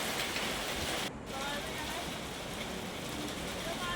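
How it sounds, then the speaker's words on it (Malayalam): Steady, dense rain hisses throughout, a continuous wash of falling water with only a brief dip in the middle. "മഴ അങ്ങനെ കൂടി വരുന്നുണ്ട് കേട്ടോ"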